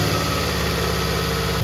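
A Toyota Camry engine idles with a steady, even low hum and fine rhythmic pulsing, heard close and alone for a short stretch.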